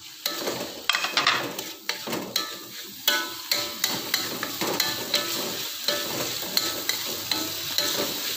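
Sliced tomato sizzles in a hot pan while a utensil stirs and scrapes against the metal in a regular rhythm of clinks, close and clear over the constant frying hiss, for a noodle soup dish.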